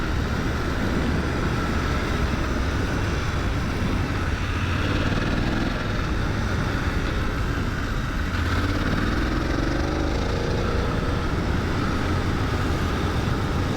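A brand-new BMW 900GS motorcycle engine runs steadily at moderate revs, a continuous broadband drone with a low rumble and no sharp throttle blips, heard close and fairly loud throughout.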